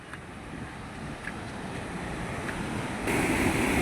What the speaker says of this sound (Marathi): खाली बघा पाणी कसे वाहते